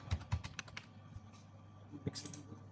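Several quick keystrokes on a computer keyboard, clustered near the start with a couple more near the end, faint and close over a quiet room hum.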